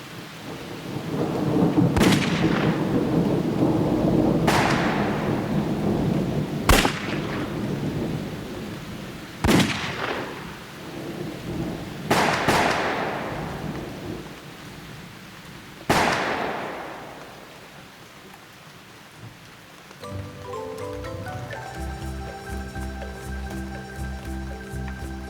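Thunderstorm with heavy rain, several loud thunder cracks rolling out over a steady downpour, about five strikes spaced a few seconds apart before the rain eases into quieter background noise.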